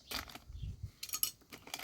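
Half a kilogram of chicken feed pours from a bag into a mix being prepared for chicks, heard as close, dry rustling bursts separated by short pauses, with no talk.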